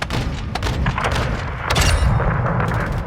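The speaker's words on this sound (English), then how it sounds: "Missile loaded, clear to fire." Missile strike fired in Call of Duty: Modern Warfare II, heard as a string of deep booms and thuds, with sharper blasts layered over a rumbling low end.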